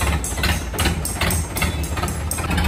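A Mahindra 475 tractor engine idles close by, a steady low diesel throb with a rhythmic knocking pulse running through the clip, with no voices over it.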